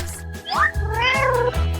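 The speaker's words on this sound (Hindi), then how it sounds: "अरे नहीं, मेरी बिल्ली इसमें है।" A cat meows loudly and close from inside a basket, two drawn-out rising-and-falling meows in quick succession over a low background hum.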